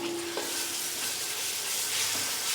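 Ginger garlic paste sizzles among fried onions in a pot for veg and chicken biryani, a steady close hiss with a couple of soft stirring knocks, no voices.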